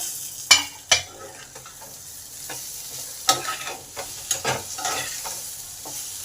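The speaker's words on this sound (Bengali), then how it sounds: "পেঁয়াজ আলু সব ভাজা ভাজা হয়ে এসেছে মাঝেও ঢাকা খুলে নেড়ে দিয়েছি" Potatoes and onions fry in an uncovered pan and are stirred, a loud close sizzle punctuated by sharp spatula scrapes and knocks against the metal, several of them spaced irregularly, with no one speaking.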